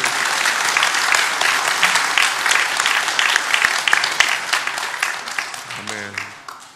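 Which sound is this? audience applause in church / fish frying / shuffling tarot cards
audience applause in church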